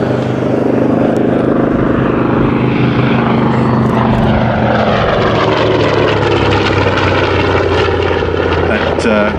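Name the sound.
Grumman TBM-3E Avenger propeller aircraft flying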